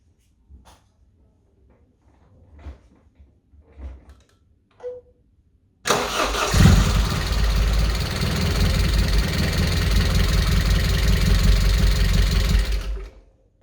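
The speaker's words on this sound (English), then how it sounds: "I'm just going to try it again now and see if it cranks up first time." A Vauxhall Astra GSi with an oil leak, first a few quiet clicks and knocks, then the engine abruptly catches and settles into a loud, close, steady idle before cutting off near the end.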